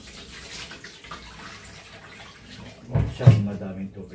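Water gushes from a tap in a kitchen, a soft running wash that swells into a louder splash near the end, under speech.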